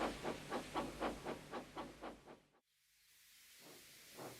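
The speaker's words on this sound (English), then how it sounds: "Soon, Edward steamed into the yards" Rhythmic chuffing puffs of a steam engine repeat for a couple of seconds, then cut off, followed by a quieter hiss and faint low rumble.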